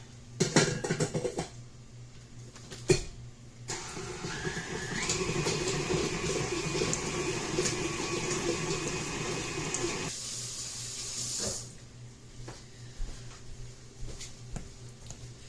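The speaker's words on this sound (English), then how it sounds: "I'm going to go ahead and just mash these on the mixer." An electric hand mixer mashes bananas in a bowl, a steady whirring motor hum lasting several seconds, with clinks and knocks before and after.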